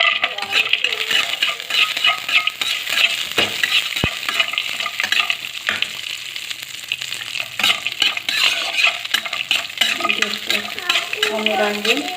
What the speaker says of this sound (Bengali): এবার ভেজে নেব কাজু এর মধ্যে দিয়ে দিচ্ছি ঘি